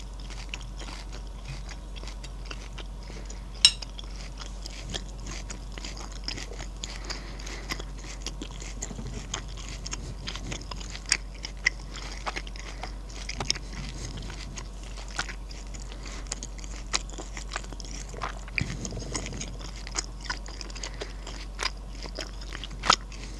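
Close, quiet mouth sounds of steak and egg yolk being eaten, with soft crunches and wet chewing recurring over a low steady hum and no talking.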